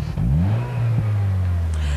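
A Vauxhall Vectra SRi with its 145 bhp 2.2-litre engine revs in a steady, loud mid-pitched drone that dips slightly and then holds, heard up close with no talking.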